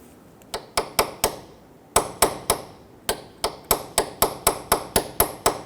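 Hammer blows on a steel punch knocking a cotter pin out of a 2006-2014 Honda Ridgeline front axle, about fifteen sharp metallic strikes in three rhythmic bursts, close and ringing, with no talking.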